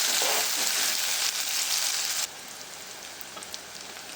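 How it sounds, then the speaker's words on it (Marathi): Finely chopped onions fry in a pan for puri bhaji, giving a loud, dense sizzle that drops suddenly to a quieter crackle partway through, with faint pops and no talking. "छानपैकी कांदा लालसर होऊ द्यायचा"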